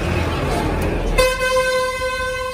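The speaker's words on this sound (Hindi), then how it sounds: "पहला हॉर्न लवा ले" A horn fitted to a modified HF Deluxe motorcycle sounds a loud, steady tone that starts about halfway through and holds to the end, above background noise.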